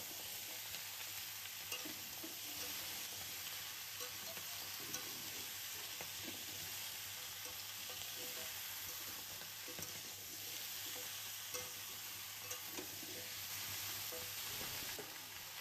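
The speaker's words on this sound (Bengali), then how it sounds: "এবার সব কিছু একসাথে নেড়ে চেড়ে নেব, তাহলে পুঁইশাক পাতাটা নরম হয়ে যাবে আর কমে আসবে" Pumpkin and Malabar spinach stirred in a frying pan, a faint continuous sizzle with soft, irregular scraping and shuffling of the vegetables, low in level and alone without voices.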